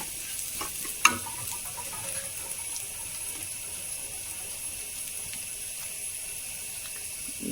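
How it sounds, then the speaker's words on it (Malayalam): Quiet, steady sizzle from a pan as washed rice is stirred for boneless chicken rice, with one sharp utensil clink early and faint scraping afterward. "അരി ഒന്ന് വഴണ്ട് വന്നോട്ടെ"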